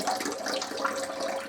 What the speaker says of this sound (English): the water is running